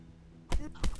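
Two sharp, close thuds about a third of a second apart, arrow shots in the video game Kingdom Come: Deliverance, with a low hum underneath.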